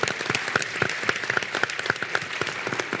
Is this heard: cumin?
no